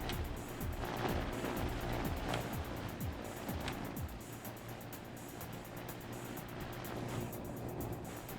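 A prop-powered swamp boat in the game Trailmakers, a steady droning engine and propeller roar with faint splashing as it rounds a corner.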